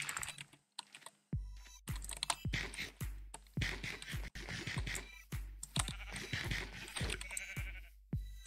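Sheep bleating in Minecraft, a few short bleats mixed with rapid computer keyboard typing and clicks, quiet overall with no talk.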